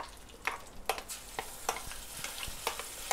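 Ground garlic chutney hits a hot pan, a soft sizzle broken by scattered clacks and scrapes of a spoon stirring, fairly quiet and close, with no voices.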